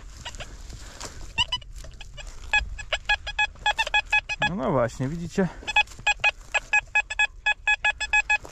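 A metal detector sweeping ground near old trees and a former manor sounds a rapid series of short electronic beeps, irregular and then steadier, with someone speaking briefly partway through.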